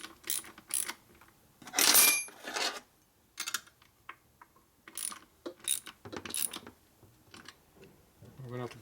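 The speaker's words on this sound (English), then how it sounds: "Torquing it down. Tightening it up." Ratchet wrench clicking in short bursts while bolts are torqued down on a Harley-Davidson shovelhead stroker engine, the quick pawl ticks close and separated by pauses.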